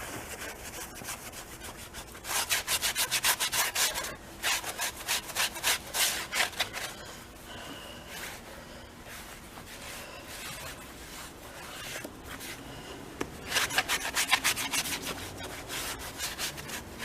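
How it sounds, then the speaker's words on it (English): Brake dust is rubbed off a Chevy Astro wheel with brisk, rhythmic scrubbing strokes that come in several bursts separated by quieter pauses, close and fairly loud, with no talking. "I'm going to rub the brake dust off and get it real nice and clean"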